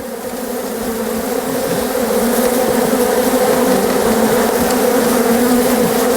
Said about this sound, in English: Oh, the whole thing feels so alive. It's just vibrating. The bees are just rolling off it.